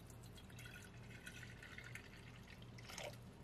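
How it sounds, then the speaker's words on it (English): Water trickles and drips as it is poured into a terracotta pot in a gecko enclosure, a soft continuous splashing with a low steady hum beneath and a brighter splash near the end. "Put some water in the terracotta pot."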